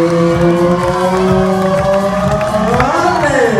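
Crowd at a show jumping competition in Bordeaux cheering and applauding, a steady dense roar of voices and clapping that continues throughout, with an announcer's voice carrying over it.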